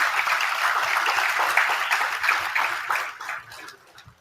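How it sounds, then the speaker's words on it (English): An audience of students and parents in a lecture room applauds with dense, moderately loud clapping that holds steady and then thins out at the end. "I want to lead a round of applause for each one of you who's sitting here in this room"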